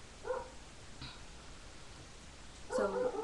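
A dog gives a few short barks and whimpers indoors, two faint bursts early and a louder burst near the end, with no talking.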